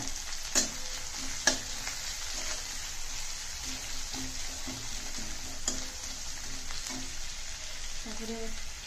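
Onions frying in hot oil with cumin for dal tadka, giving a fine, steady crackling sizzle with occasional sharp pops and a few utensil knocks near the end.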